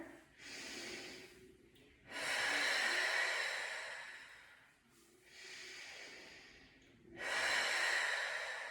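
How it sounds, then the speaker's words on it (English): Slow, deep breaths during a gentle chair yoga class: long airy inhales and exhales alternate in a steady rhythm, close and fairly loud, with no talking. "Continue to deepen the breath for 3 more."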